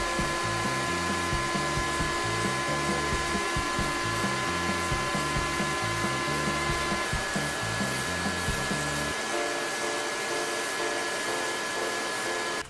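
A shop vac roars steadily and loudly throughout while foam is shaped for a sci-fi prop bracer, a constant close whine with a pulsing, stuttering machine texture underneath that drops away near the end.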